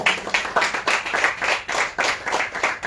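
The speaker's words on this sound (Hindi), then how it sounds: "और इनके पूरे परिवार के लिए भी एक बार ताली बजाइए।" Many people applaud at a devotional Hari Katha gathering in Holland, their clapping continuous and fairly loud, with a loose rhythmic pulse running through the crowd.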